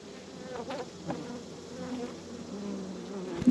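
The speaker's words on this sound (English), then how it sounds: "Lots of bees milling around" A steady insect hum from many honeybees buzzing together in an open hive, a low continuous drone with small swells and no talking.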